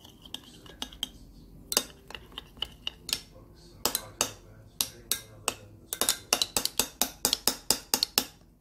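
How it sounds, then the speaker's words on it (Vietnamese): Egg yolks whisked in a bowl with a utensil for a Japanese rolled omelette, sharp clinking taps against the bowl coming irregularly at first, then in a quick steady rhythm, close and clear. "Lòng đỏ cũng vậy các bạn, khuấy lên ha"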